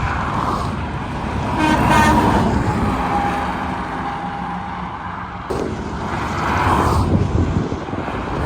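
A semi truck's air horn blares on Interstate 10, coming as two fairly distant blasts, near the start and near the end, over a constant roar of passing highway traffic.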